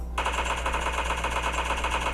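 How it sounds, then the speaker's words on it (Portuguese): Gunfire in a mobile shooter video game played on a Redmi Note 8, a loud continuous rapid rattle of shots over steady game background noise. "tem gente dando tiro aqui, ó, pra cá"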